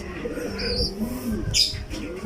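Young pigeons coo softly in a loft, making low, throaty warbling calls close by. A brief higher chirp is heard amid the cooing.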